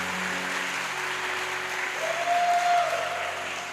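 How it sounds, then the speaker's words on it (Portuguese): A church congregation applauds during an evening worship session, a steady wash of clapping that swells a little midway, with a faint sustained tone from the sound system underneath. "Você pode aplaudir Jesus essa noite?"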